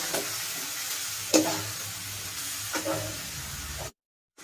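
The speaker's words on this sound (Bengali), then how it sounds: "দেখো, আমাদের মশলাটা ভালোভাবে ভাজা হয়ে গেছে" Masala spiced with salt and chopped tomato fries in a pan, a steady sizzle with a few sharp stirring scrapes and clinks, close and moderately loud, ending abruptly in silence.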